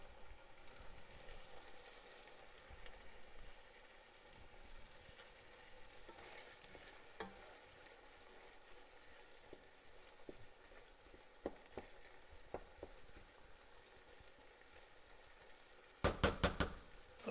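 Food frying in a high-sided pot with steady sizzle, intermittent stirring clinks and knocks, and a brief louder clatter near the end; no one speaks.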